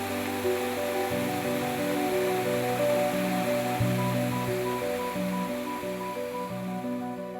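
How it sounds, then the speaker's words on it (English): Stair-step waterfalls in Bear Cave Hollow along the Buffalo River in Arkansas, a steady, full rush of tumbling water that holds constant and fairly close, with no voices over it. "Down here, it's just these stair-step waterfalls that are so pretty."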